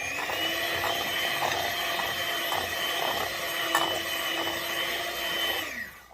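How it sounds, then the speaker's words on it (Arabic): An electric hand mixer beats ghee and sugar together for sabliya cookie dough, making a steady, moderately loud motor whir with faint rhythmic scraping against the bowl, stopping at the end. "عشان لما اجي اضربه بالمضرب السكر ما يطرش مني اهو"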